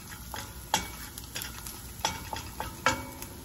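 Chopped onions and fresh thyme sauté in a pan with pepper for mini keto meatloaf. A soft, even sizzle runs throughout while a spoon scrapes and taps the pan a few times, with no talking.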